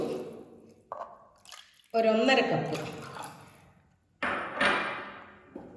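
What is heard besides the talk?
water poured from measuring cup into small pressure cooker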